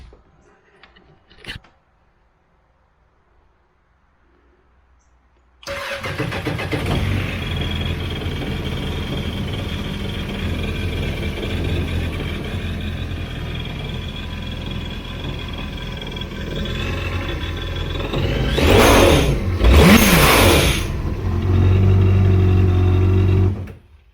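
A Yamaha 2019 GP1800R watercraft fitted with a RIVA performance blow-off valve and intake manifold cranks briefly, then its engine catches and runs steadily and loud, with a surge of revving near the end and no talk.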